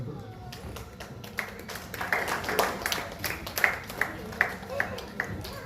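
Audience clapping for guests at a bridal hair and beauty salon academy talent competition, a modest scattered round of claps with sharp individual hits building midway, with talk underneath.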